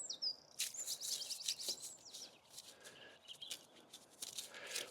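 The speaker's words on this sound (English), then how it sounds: "the birds are up and about," Small birds chirp and call outdoors on a warming morning, scattered quick tweets and a short trill near the start, fairly faint over a steady background with no talking.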